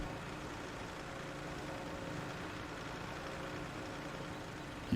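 Tractor engine in Farming Simulator 17 running at a steady low drone, close and constant throughout, with no other sounds over it.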